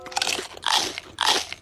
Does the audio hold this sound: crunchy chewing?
yes